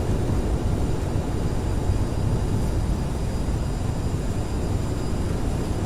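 An Aerosoft CRJ700 in Microsoft Flight Simulator lands and deploys reverse thrust, giving a steady, broad jet roar with a deep rumble underneath. It is loud and constant, with no talk.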